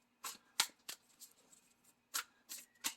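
Tarot cards are shuffled and drawn close up, giving a few quiet, sharp riffles and flicks spaced irregularly over a few seconds with soft handling rustle between them.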